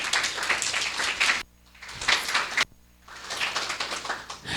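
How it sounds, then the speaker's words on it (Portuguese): At a lecture on women in architecture, an audience applauds in dense, loud bursts. The clapping cuts off abruptly into near-silence twice, then starts up again each time. "a Ana Luísa pode também receber as palmas"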